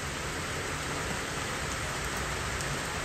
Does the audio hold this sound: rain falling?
yes